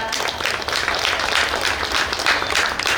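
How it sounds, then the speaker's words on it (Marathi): Loud, continuous applause from an audience at a ceremony in an old Shri Ram temple in Ratnagiri, a dense crowd clapping steadily for the full few seconds with no pauses. "टाळ्या जोरदार."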